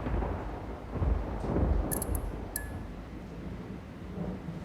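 Steady rain with low rumbling thunder rolling underneath, a continuous wash of sound with a few faint bright ticks, no voices.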